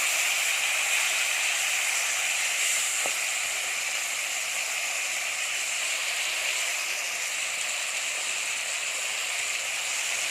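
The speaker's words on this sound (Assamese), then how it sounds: "এতিয়া মাছখিনি ফ্ৰাই কৰিম।" Fish pieces frying in a pan give off a steady, close sizzle that carries on evenly throughout, with no talking.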